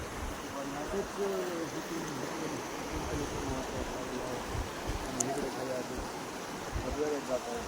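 Water rushing and splashing below the Sautada waterfall, a steady broadband roar filling the whole stretch, with voices talking faintly underneath.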